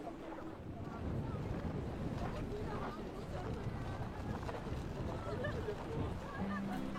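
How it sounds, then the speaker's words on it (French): Steady strong wind buffeting the microphone near the Aletsch glacier in the Swiss Alps, a continuous roaring rush that fills the whole stretch without speech. "C'est venteux."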